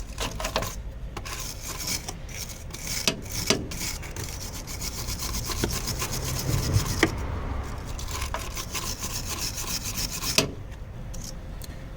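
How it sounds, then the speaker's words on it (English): Damaged threads on a Fiat 500 front strut being filed by hand, a close rasping scrape repeated in uneven strokes, with short pauses and a few sharper knocks. "So the plan is to try and file around here, file off the threads as much as I can"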